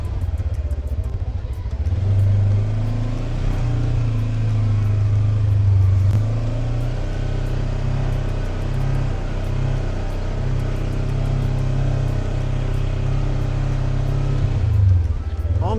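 A Segway Fugleman UT10 utility vehicle drives and turns tightly in low range, its engine humming steadily and close with a slight rise in pitch early on. Faint rattles and bumps run alongside the engine, and someone talks over it.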